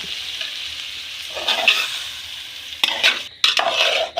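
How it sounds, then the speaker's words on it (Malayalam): Curry lemon pickle is stirred into a thick gravy in a pan on the stove, with a steady sizzle and several spoon-scraping strokes, one sharper clatter near the end, no talking. "എന്നിട്ട് നന്നായിട്ടൊന്ന് മിക്സ് ചെയ്ത് കൊടുക്കുക."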